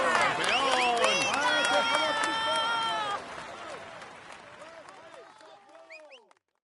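A crowd claps and cheers in a Tour de France 2018 cycling video game on PS4, dense and loud at first, then thinning into scattered clapping that fades out, with a voice briefly mixed in.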